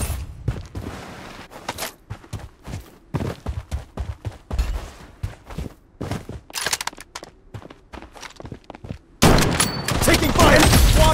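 Gunfire in a ranked Blood Strike match crackles in rapid, uneven bursts with short gaps between volleys, then swells into a louder, continuous barrage near the end.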